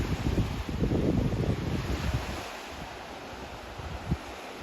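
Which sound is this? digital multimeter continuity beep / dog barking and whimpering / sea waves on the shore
sea waves on the shore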